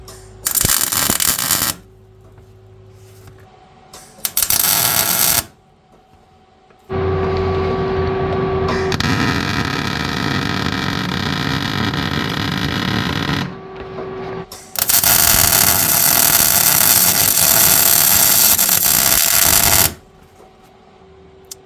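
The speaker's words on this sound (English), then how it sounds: "now I will weld it, I'll put a spot weld in" Bursts of spot welding on a shortened drive shaft, with several loud crackling stretches of varying length separated by quiet gaps and a low machine hum.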